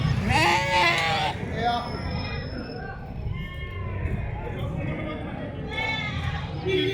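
Goats bleat repeatedly at the busy Annur goat market, loud and close over constant crowd murmur and people talking.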